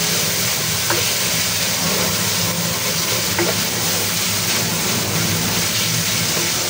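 Sweet ham frying in hot oil for a casserole, a steady dense sizzle with faint pops throughout, close and continuous with no voices.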